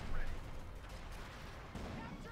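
Gunfire from an M8 Scott armored car in the World War II strategy game Company of Heroes 2, a dense battle rumble of shots and distant blasts over continuous noise, with a commentator's voice faintly present.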